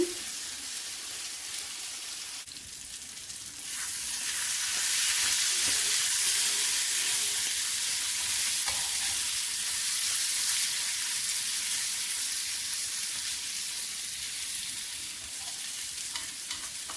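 A fish dish cooking in an uncovered pan while being stirred: a quieter start, then a loud, steady frying sizzle with occasional scraping stirs, close and without voices.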